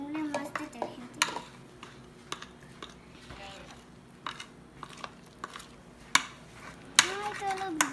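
Slime being stirred with detergent in a bowl, giving repeated clinks and scrapes of a utensil against the bowl, with brief voices breaking in now and then.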